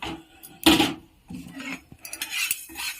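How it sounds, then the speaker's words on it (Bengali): White and black mustard seeds being stirred as they roast in a wok, heard as scraping and clattering of a utensil against the pan in several short bursts, fairly close, with no talk. "একদম লাল লাল করে সাদা সর্ষে আর কালো সর্ষেটা ভেজে নেব"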